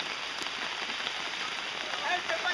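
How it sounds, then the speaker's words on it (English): Steady rain falls outdoors at a lake still littered with typhoon debris, a continuous dense hiss at moderate volume with scattered brighter drop ticks and faint voices underneath. "We're in the rain."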